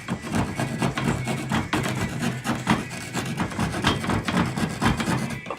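Material is shaved off by hand before plastering, a close, rhythmic scraping and rasping of repeated strokes that continues steadily throughout with no talk.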